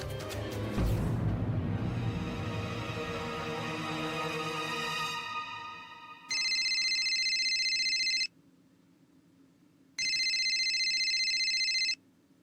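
A sustained musical tone fades out, then an electronic phone ringtone sounds twice in long bursts separated by a short pause.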